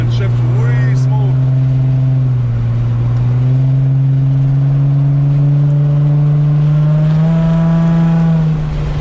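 An Infiniti G35 with a single eBay exhaust drones loudly while driving, a steady low engine note that climbs gradually in pitch under faint road noise.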